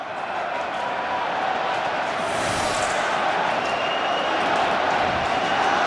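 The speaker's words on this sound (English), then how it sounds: "And the crowd are involved again." Football stadium crowd at an A-League match between Melbourne Victory and Perth Glory in 2005/06, roaring after a goal as one loud, continuous wash of cheering that holds steady and swells slightly toward the end.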